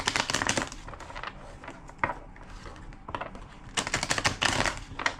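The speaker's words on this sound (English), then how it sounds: "2 more shuffles." A deck of cards being shuffled in several quick bursts of crisp riffling, close and fairly quiet, with short pauses between shuffles and no talking.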